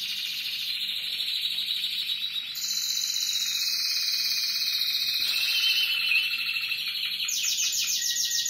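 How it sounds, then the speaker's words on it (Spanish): Three caged male songbirds trill and warble in continuous high, rapid phrases that shift pitch in steps, close and clear over a low steady hum. "hay pájaros que ahora mismo pues ahí están cantando más y pájaros que están cantando menos"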